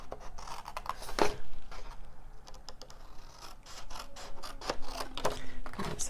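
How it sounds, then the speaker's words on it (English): Scissors cutting paper for a treat box: close, crisp snips and rustling paper in short irregular bursts, with a few sharper clicks of the blades. "So I'm just going to use scissors."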